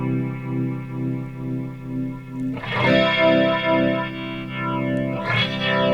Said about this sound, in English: It's a very cool, rare sound in an analog flanger.